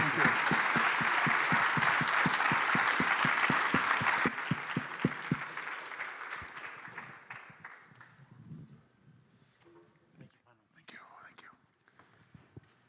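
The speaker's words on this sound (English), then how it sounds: "Please join me in an applause for this." Audience applause at an innovation summit panel, a dense steady clapping that fills the room for about four seconds before thinning out and fading into quiet murmurs.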